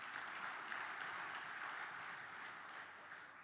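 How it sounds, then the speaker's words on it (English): A summit audience applauds during keynote speeches at a tourism investment event, a soft, even spread of clapping that stays constant and slightly distant, easing off a little toward the end. "I think we'd like to give you a round of applause for that."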